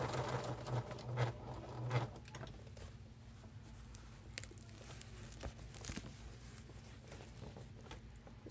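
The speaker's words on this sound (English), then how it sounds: "lift the presser foot, move this over, and start sewing again" A sewing machine stitches the end piece onto a barrelette clutch purse, a steady mechanical patter and hum running close and moderately quiet, with louder bursts of stitching in the first two seconds and no talking.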